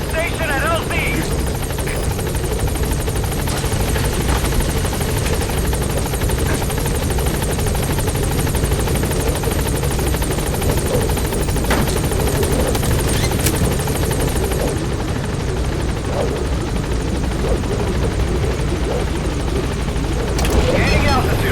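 The Pequod helicopter at a landing zone in Metal Gear Solid V video game hovers with a loud, continuous rotor thrum and engine whine, close and steady, while radio voices speak over it.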